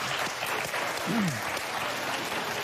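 Studio audience at a daytime talk show breaking into loud, sustained applause and cheering, dense clapping filling the room with a brief voice rising above it.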